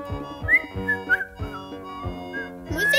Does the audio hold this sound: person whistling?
yes